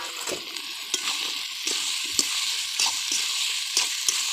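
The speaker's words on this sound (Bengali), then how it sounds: "এই যে এবার মটরশুঁটি এই মটর সেদ্ধগুলো আর আলুগুলো দিয়ে দিলাম" Boiled peas and potatoes hit a hot pan for a ghugni-style dish cooked over a wood fire, giving a steady close sizzle broken by several scraping stirs and knocks of a spatula.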